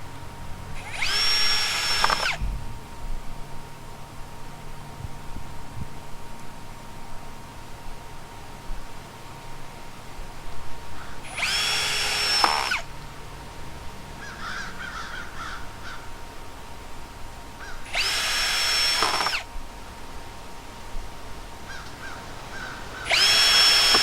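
A power drill drives 2-inch exterior screws into wooden gussets and 2x4s on a cheap wood greenhouse frame, three loud bursts spaced several seconds apart, with crows cawing in the background between them.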